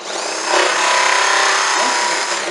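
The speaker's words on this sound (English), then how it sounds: "Once you've drilled your holes in your plastic crosspiece and cut out your fair lead hole" A power drill boring holes through a plastic crosspiece for a winch on a 2016 Jeep Trailhawk, one sustained close whine with a sharp rise at the start and an easing at the end.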